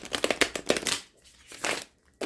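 New tarot card deck being riffle-shuffled close by, a quick run of crisp card flutters, a pause, then another brief riffle.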